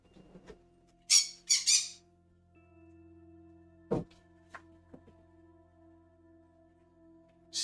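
Pet bird Pop-Tart lets out a loud burst of close, harsh squawks, three quick calls in a row, then a few sharp clicks and a last squawk at the end over a steady low household hum.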